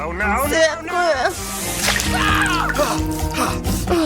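Water splashes and sloshes over people in quick bursts, mixed with loud voices talking and crying out.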